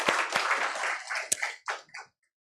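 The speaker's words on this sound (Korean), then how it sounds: "우리 하나님께 영광의 박수 올려드리겠습니다" A church congregation gives a brief burst of applause during a Sunday service, a dense wash of many hands clapping that swells and then fades to silence within about two seconds.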